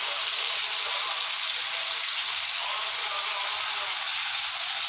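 Chicken broth pours steadily into a pot with a continuous splashing hiss, close and unbroken throughout.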